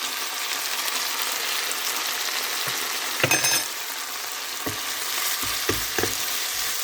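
Pork belly and mustard greens stir-fried with roasted chili paste, a dense steady sizzle up close, with a clatter of the spatula midway and a few soft scraping knocks near the end, no speech.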